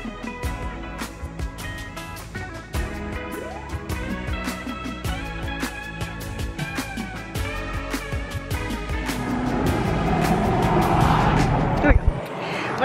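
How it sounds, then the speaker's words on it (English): Cars race past at speed along the Las Vegas Strip, a dense, continuous traffic roar with whooshing passes that grows louder toward the end, with faint voices and background sounds mixed in. "the way the cars are flying by is like scary"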